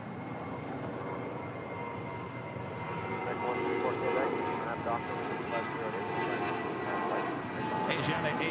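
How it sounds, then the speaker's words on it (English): An Asiana Airbus A380 lands at LAX, its engines a steady, distant roar that swells slightly midway while someone talks over it. "Asiana A380 Super landing up there on the north side"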